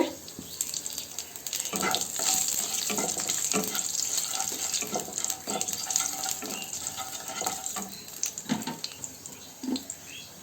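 Dried red chillies, bay leaves and nigella seeds hit hot oil in a pan as a tempering for a Bengali hilsa fish head and pumpkin curry, giving a steady, close sizzle with crackling pops throughout.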